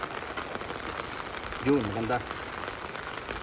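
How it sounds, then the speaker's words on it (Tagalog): Heavy rain pours steadily in an outdoor setting, a dense even patter throughout, with a person speaking briefly over it midway. "Malakas na ulan."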